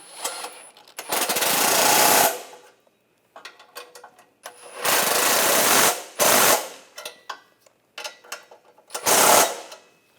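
A 13mm socket tightens the front flex pipe bolts on a 2014-2022 Chevrolet Trax: several close bursts of mechanical whirring and ratcheting with brief clicks and pauses between them.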